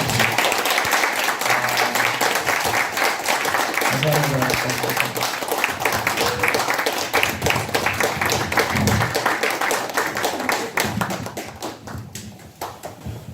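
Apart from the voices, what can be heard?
applause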